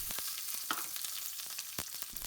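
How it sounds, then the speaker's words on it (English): Chunked onions sizzle and crackle steadily in hot oil in a pan on high heat, a bright continuous frying hiss with occasional sharper pops and stirring sounds. "Once sizzling, add the chunked onions,"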